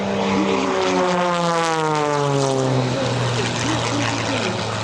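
Aerobatic propeller airplane at a county airshow, a loud droning engine and propeller whine passing close and sliding down in pitch as it moves away, with crowd noise underneath.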